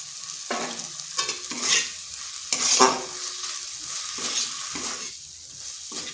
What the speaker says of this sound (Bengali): ভালো করে সমস্ত উপকরণগুলি মিশিয়ে নিচ্ছি।